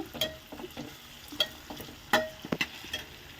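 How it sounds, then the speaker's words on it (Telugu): Spices tempering in a hot pan for upma, with mustard seeds, curry leaves, chana dal, urad dal, cashews, ginger and tomato: scattered sharp crackles and pops over a low sizzle, close and fairly quiet, no talking. "నేను తాలింపు వేసుకునేది."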